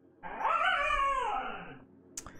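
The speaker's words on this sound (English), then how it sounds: "Yeah, that's my dog." A dog gives one drawn-out, wavering howl that bends upward and then slides down into a whimper, fairly near and alone, followed by a short sharp click.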